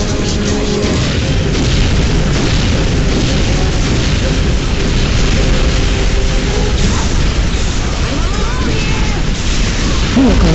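Unreal Tournament 2004 vehicles blowing up in loud, dense booms over constant heavy battle noise, with an announcer-style voice calling out in the mix.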